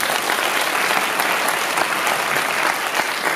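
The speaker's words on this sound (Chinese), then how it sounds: "掌声鼓励一下" Audience applause at a post-screening panel talk during the 2016 Kaohsiung Film Festival: dense, steady clapping from a crowd that fills the room evenly for a few seconds without a break.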